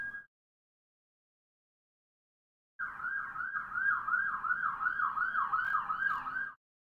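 A wailing emergency vehicle siren from the video game Roguetech sweeps up and down in steady repeating cycles for a few seconds, fairly loud and alone, after a long stretch of near silence.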